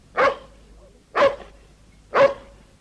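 A dog barks three times at an even pace, about one bark per second, loud and close, with quiet pauses between each bark.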